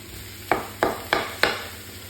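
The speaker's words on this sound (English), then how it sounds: "So just going to break the mince up" Mince frying in a pan and being broken up with a utensil, four evenly spaced scraping knocks over a steady sizzle, close and fairly loud with no voices.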